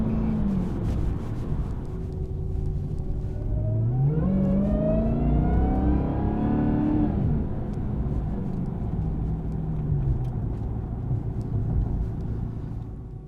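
A 2021 Dodge Charger SRT Hellcat Redeye Widebody with a 797-hp engine rumbles steadily while driving, with a loud rising rev around the middle before settling back into a constant cabin drone.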